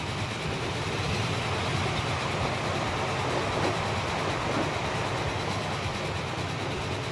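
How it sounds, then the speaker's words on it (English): A train slowly approaching on the line in the video game Transport Fever, a steady, dense rolling rumble with a faint clatter of wagons that holds at an even loudness throughout. "there is one of those anti-clockwise trains coming towards us, quite slowly in fact"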